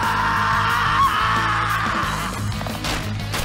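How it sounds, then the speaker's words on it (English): A loud, sustained scream from a character in the video game Persona 3 Reload, raw and strained over game music and effects, close and dominant. "Oh, that scream was beautiful."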